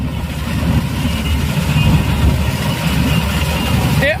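A combine harvester's engine rumbles steadily at close range beside low-hanging power lines on a farm, a continuous low idle-like drone with a faint voice and a brief rising whine near the end.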